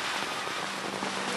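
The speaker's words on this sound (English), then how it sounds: "it's bucketing down here" Heavy rain pours steadily, a dense, continuous hiss of drops hitting a surface, close and loud with no voices.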